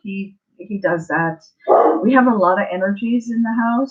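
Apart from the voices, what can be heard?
dog barking in the house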